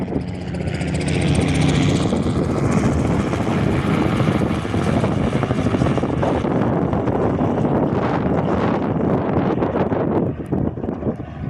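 A Robinson R44 helicopter on a windy day makes a loud, continuous rotor and engine roar under heavy wind buffeting on the microphone. The sound holds steady, then fades slightly toward the end.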